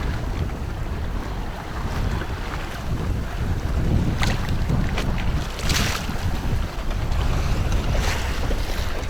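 A Nordica 16 sailboat moving at speed on Mississippi Lake: steady wind buffeting the microphone with water rushing and slapping against the hull, broadband and continuous throughout with occasional louder splashes.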